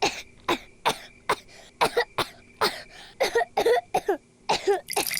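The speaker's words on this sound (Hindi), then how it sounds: "आपको अचानक इतनी खांसी क्यों होने लगी?" A run of repeated coughs and throat-clearing bursts, close and fairly loud, coming in irregular fits with short pauses between them.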